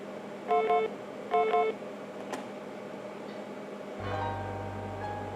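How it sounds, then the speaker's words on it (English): Two short electronic phone rings in the video game Tex Murphy: The Pandora Directive, each a brief stacked-tone burst about a second apart, clear over a quiet background hum. "Was that my phone?"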